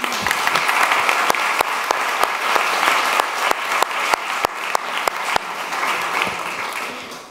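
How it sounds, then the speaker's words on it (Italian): Strong, sustained applause from an audience at the opening of a breast cancer prevention campaign event, dense and even, with a few sharp, close claps standing out on top. "qui dobbiamo dare assolutamente un applauso"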